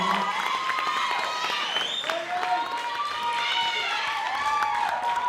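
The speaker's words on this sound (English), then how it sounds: "Let's give them all a massive round of applause" Audience at the Miss Earth NZ 2026 pageant finals fills the hall with continuous applause and cheering, loud and sustained, with excited whoops and shouts rising over the clapping.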